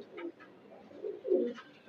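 Breeding pigeons coo in low, throaty bursts, several soft rolling calls rising and falling over two seconds, fairly close and moderately quiet with no talk.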